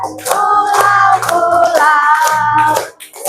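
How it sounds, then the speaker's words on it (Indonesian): A classroom of children sings a patriotic song together at full voice in an Indonesian primary school arts lesson; the singing dominates, and any clapping stays buried beneath it. "Ambil tepuk tangan ya."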